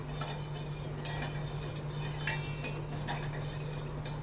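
Milk for sabudana kheer is stirred in a pot with a spoon, giving light scraping and soft clinks against the metal over a steady low hum. The stirring goes on continuously and stays fairly quiet.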